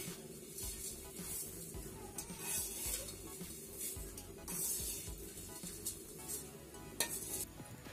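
Homemade vermicelli (sewai) being stirred as it roasts in a pan over a low gas flame, with steady scraping and soft sizzling plus occasional clinks of the spoon against the metal, close and continuous.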